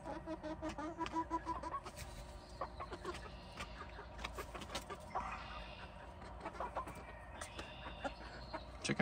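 Backyard chickens cluck and chatter near and far in a busy, overlapping flock, with short bursts of clucking and occasional squawks over a low background, fairly faint overall.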